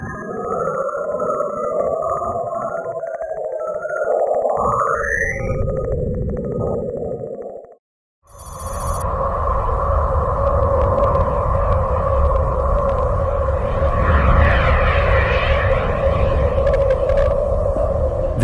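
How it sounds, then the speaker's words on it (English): Ghostly radio emissions from Saturn, tied to the auroras near its poles and picked up by a spacecraft, play as a steady eerie drone with gliding whistling tones. A brief dropout near the middle is followed by a denser, louder hum. "this is another sample of ghostly radio emissions from the planet."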